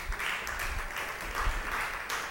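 Steady applause from a church congregation during a sermon, continuous clapping at moderate volume with occasional heavier thumps underneath.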